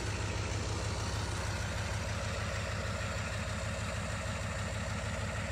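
A Ford 7.3 IDI diesel truck engine with stage 1 injectors idles just after a cold start, a steady rhythmic low clatter and rumble, close and constant, with no talk.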